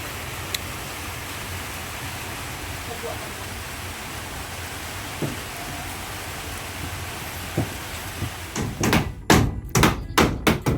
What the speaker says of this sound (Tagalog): Ito talaga ang kalaban natin. Ulan.